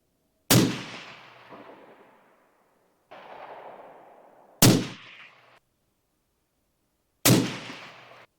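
Three loud, sharp rifle shots from a Sig Sauer Cross .308, spaced a few seconds apart, each with a ringing decay, and a duller thump in between, with no talking.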